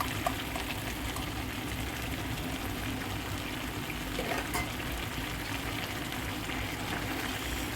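Dried coconut powder is stirred into a stuffed-eggplant (gutti vankaya) curry in a hot pan, giving a steady close sizzle and bubbling with soft scraping throughout, no talking.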